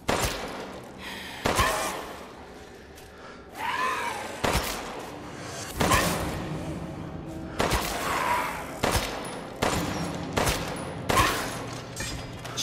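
Gunfire in Resident Evil Village comes as a series of sharp single shots at spaced intervals, loud and close, with a creature's groans and gasps heard between several of them.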